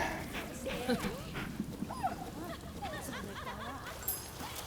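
A dog in the samurai action game Rise of the Ronin whimpers and yips in a few thin, rising cries, mixed under steady talking with a low background rumble.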